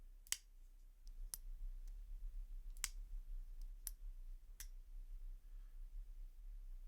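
Crisp, sharp clicks from a Golden, Colorado–made Spyderco Manix folding knife being worked, about six separate snaps spaced irregularly over several seconds, close and clear against a quiet background hiss.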